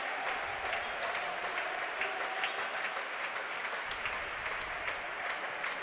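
Spectators at the Centro Insular de Deportes clap during a volleyball match between Club Voleibol Guaguas and Río Duero Soria, a sustained wash of applause with rhythmic clap accents filling the arena.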